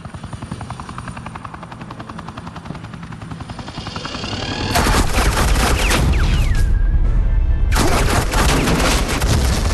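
Batman video game gunfire, dense suppressing bursts over a loud thudding helicopter rotor, starting moderate then swelling into sustained heavy fire up close.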